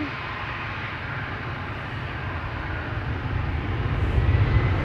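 A business jet departing Amsterdam Schiphol Airport gives a steady, broad jet engine roar that builds gradually louder toward the end, heard from a moderate distance with no talking.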